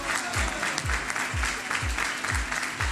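Residents applaud the staff of a care home with scattered clapping, while a low rhythmic thumping repeats beneath it at regular intervals.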